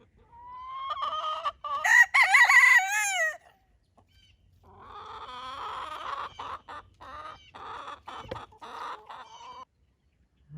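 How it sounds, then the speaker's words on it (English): A rooster crows loudly nearby in a garden, then hens cluck and call in a chattering run of short notes. "The chickens want to say good morning."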